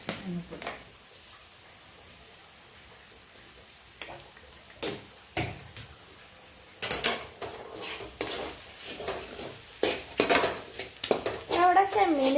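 Prawns frying with chilli and coriander powder in a pan, a steady soft sizzle under repeated clinks and scrapes of a spoon stirring against the metal, with a voice speaking near the end.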